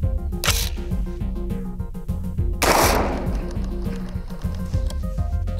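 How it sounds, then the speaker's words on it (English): Two sharp, loud gunshots from a Stag 10 .308 AR rifle with an 18-inch barrel and fixed stock, each a close, booming crack with a short ringing tail over a steady background. "18-inch barrel on the Stag 10, 308 gun, fixed stock"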